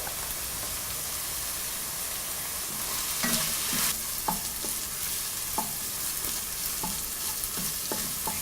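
Onion, ginger and garlic sauté in a pan for Kerala-style pork vindaloo, a steady frying sizzle under repeated spatula scrapes and stirring knocks, close and fairly loud.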